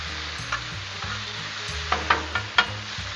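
Thin shaved ribeye sizzles and fries loudly on a Blackstone griddle while a metal spatula stirs and scrapes it, giving several sharp clinks over a steady hiss, close up and with no talk.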